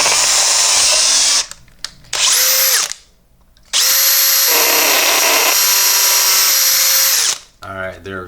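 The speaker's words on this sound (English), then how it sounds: "Grab a drill, drill out the front two all the way through." A loud, close power drill drilling through plastic RC car parts spins up in long high-pitched runs, stopping briefly between bursts, with a brief clatter at the end.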